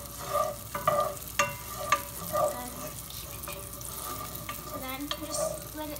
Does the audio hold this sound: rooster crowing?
no